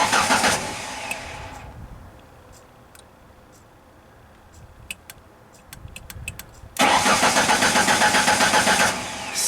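Car engine cranking on a Genie vehicle with a crank no-start fault, starter churning rhythmically in a loud burst near the start and again at the end without catching, with quiet clicks and shuffling in between.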